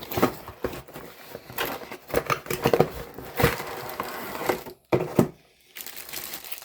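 A Logitech MK295 keyboard is pulled from its cardboard box. Plastic and packaging crinkle and rustle, with scattered bumps and scrapes up close and brief pauses, and no voices.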